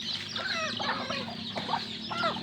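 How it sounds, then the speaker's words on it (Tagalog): A group of native chickens clucks steadily and nearby, overlapping calls rising and falling over a low constant hum. "Papakita ko lang po sa inyo po aking mga alagang manok. Mga native chicken."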